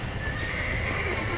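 A horse in the video game Red Dead Redemption gives a short whinny with hooves under it. The sound sits in a dense game soundscape and lasts only a moment.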